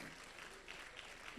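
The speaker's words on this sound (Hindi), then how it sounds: "तालियां बजाएं साहब इनके लिए।" Audience at an award ceremony applauding, a brief, even wash of clapping, faint and continuous with no other sounds standing out.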